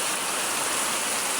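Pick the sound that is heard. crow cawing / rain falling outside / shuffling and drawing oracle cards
rain falling outside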